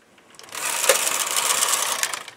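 A knitting-machine carriage is pushed slowly across the needle bed at tight tension for a first row. It makes a steady, close mechanical whirring rasp lasting about two seconds, with no talking.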